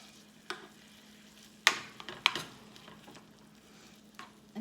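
Chorizo fries quietly in a pan while being broken up, a soft low sizzle under a few sharp scraping taps of a utensil against the pan.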